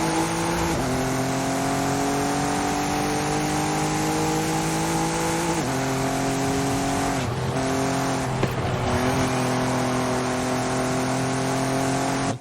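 Racing cars in a video game race, including a Jaguar and an Infiniti: a loud, continuous engine drone climbing and shifting pitch through gear changes, with a short tire-scrub dip midway and no voices.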